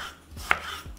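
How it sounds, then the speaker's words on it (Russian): A knife chops through tomatoes on a cutting board, three distinct thuds at an uneven pace, close and clear with no talking. "Помидоры, как и перец, нарезаем полукольцами"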